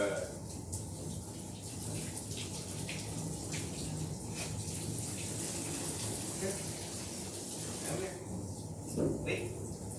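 A tap runs at soft, low pressure while a smooth-coated mixed-breed dog is rinsed during a grooming bath, a continuous splashing gush that varies slightly as the stream moves, with a person talking over it.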